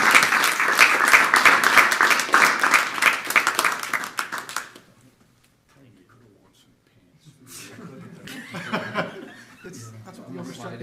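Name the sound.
applause for scholarship recipient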